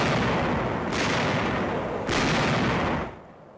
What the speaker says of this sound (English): A heavy artillery barrage prepares the way for the infantry advance.